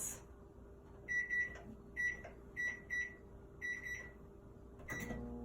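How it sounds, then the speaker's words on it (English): A kitchen microwave oven heating a covered dish of chicken fajitas gives a steady low hum, with a series of short, high electronic beeps repeating in quick pairs over it, close by and with no talking. "I'm going to stick it in the microwave"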